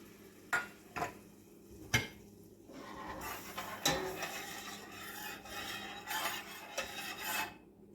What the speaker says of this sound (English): I have some homemade seafood stock, and I'm going to add some of that. I've got 1/2 cup. Let me just get that stirred in.